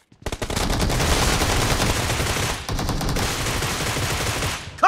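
Video game gunfire, rapid automatic bursts in a dense continuous rattle, loud and close, with a short gap partway through before firing resumes.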